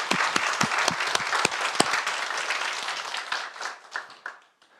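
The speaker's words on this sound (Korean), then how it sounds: "이와 같은 성막의 복음을 우리에게 주신 우리 하나님께 감사와 영광의 박수를 드리겠습니다." Congregation clapping in a church during a Sunday worship service: a short burst of hand claps, loud and dense at first, then thinning out into scattered individual claps before it stops.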